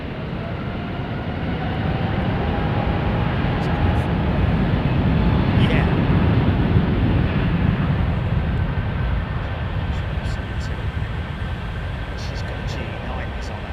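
Airbus A350 jet at London Heathrow, a loud sustained engine roar that swells and slowly fades, with a few faint clicks on top.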